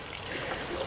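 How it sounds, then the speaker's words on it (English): Water pouring and trickling into potting mix in a self-watering bucket planter, a steady continuous wash of splashing and soaking that stays even and fairly close throughout, with no talk over it. "Give that potting mix a good soaking,"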